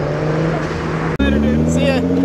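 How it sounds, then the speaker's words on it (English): A Nissan Skyline R34 pulls out of a Houston car meet with a loud, close engine note that jumps sharply partway through into a harder rev. "Got the R34 rolling out."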